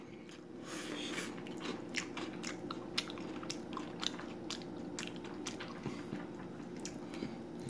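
Someone crunches and chews Cheerios with peanut butter, honey and milk, close up, with a steady run of short crisp bites and moist chewing.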